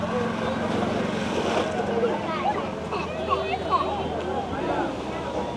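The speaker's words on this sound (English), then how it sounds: "there are waves crashing right here" Ocean waves wash onto the shore at Key West near the southernmost point, a steady broadband roar with wind buffeting the microphone and children's voices and chatter mixed throughout.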